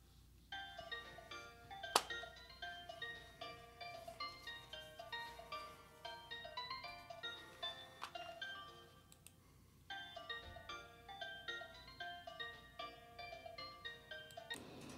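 A mobile phone ringtone plays a bright electronic melody that repeats in phrases for about fifteen seconds. It is fairly quiet and steady, with no one speaking.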